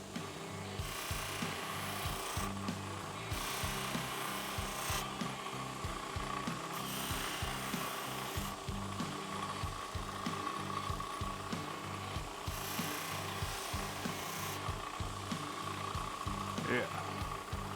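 Close, steady polishing wheel whirring against small CZ P-07 pistol trigger parts, a continuous buffing drone with faint rubbing texture and brief scrapes, running the whole time without pause.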